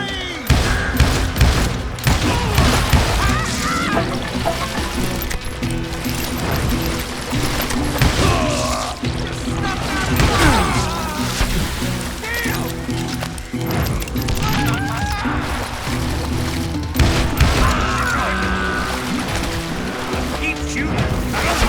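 Gunfire in the Western shooter Call of Juarez Gunslinger, with repeated loud shots and crashing impacts scattered through a long stretch of busy game audio, with a voice talking over parts of it.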